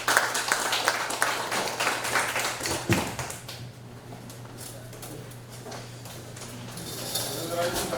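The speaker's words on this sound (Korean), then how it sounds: "다시 한번 박수 부탁드립니다" An audience applauds after a lecture on ancient tombs, a few seconds of loud, dense clapping that thins out to a quieter room with a low steady hum and a speaking voice.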